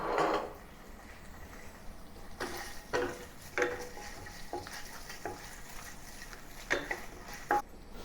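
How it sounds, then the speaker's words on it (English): Doubanjiang chili bean paste stir-fried in a pan for Sichuan-style spicy garlic chicken: a steady low sizzle with repeated scraping strokes of a utensil against the pan, near and alone. "I'll then add a large tablespoon of doubanjiang or chili bean paste"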